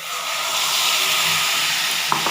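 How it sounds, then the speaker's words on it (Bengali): Paste of ginger, cumin, tomato, cardamom, clove, cinnamon, cashew, melon seeds and poppy seeds frying in hot oil in a kadai, a loud continuous close hiss and sizzle with a faint click near the end. "এবার কড়াই তেল গরম হচ্ছে, এর মধ্যে দিয়ে দেবো আদা জিরে টমেটো এলাচ লবঙ্গ দারচিনি কাজু চালমগজ পোস্ত বাটা।"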